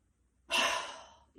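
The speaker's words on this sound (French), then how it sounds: "Et là, j'expire." A single forceful, breathy exhale during an energizing breathing exercise for sports preparation, starting abruptly and trailing off over about a second, close and clear, followed by the start of the next breath.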